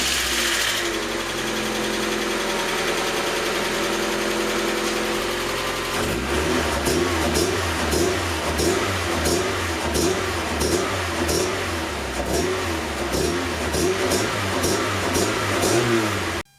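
A 1990 Mazda Miata engine cranks and catches, then settles into a steady, close idle with a regular low throbbing pulse that fills the remaining seconds without any talk.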